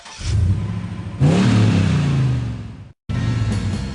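The Duck Duck truck's engine revs in the Duck Duck Moose More Trucks video game: a steady mid-pitched motor drone surges into a loud rising rev, then cuts out briefly before idling again.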